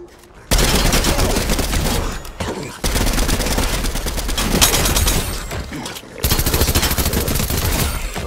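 Distant fighting in the video game Fortnite: dense, loud bursts of rapid gunfire rattle almost continuously, broken by a couple of brief pauses.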